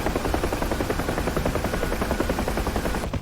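UH-1H Huey helicopter in flight in the DCS combat simulator, a loud, steady rotor thump with dense rapid blade slap filling the clip up close, no voices.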